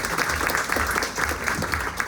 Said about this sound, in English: let's give Rhiannon Paget a big congratulatory round of applause